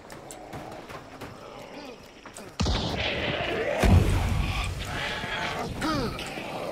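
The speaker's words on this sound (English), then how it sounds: "I hear gunshots. Very close." Gunfire close by in the video game Hunt Showdown: a sudden loud blast followed by a heavy thump and echoing reports over a rumbling game ambience, with a faint voice in the background.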